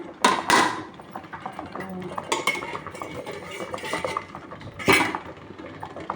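A pot lid is lifted off a pot of cow's milk cooking into junnu on a medium flame, giving a loud metallic clank at the start, then lighter clinks and scrapes of cookware and a second clatter near the end.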